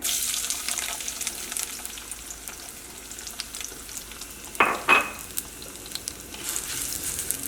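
Sliced onion fries in coconut oil with a soft, steady sizzle, broken midway by two short, louder scraping bursts from stirring in the pan.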